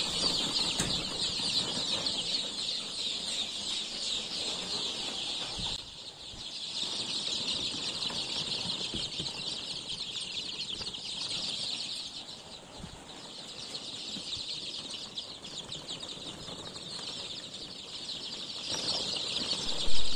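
KUB-2 purebred chicks in a healthy brood pen make a constant, dense chorus of high peeping and clucking with occasional wing flutters, nearby and steady throughout.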